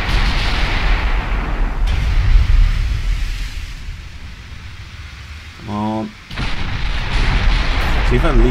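Deep booming blasts of an 8-inch naval gun on a King George V battleship in Ultimate Admiral Dreadnoughts, with heavy rumbling roars and a brief tonal chime between them.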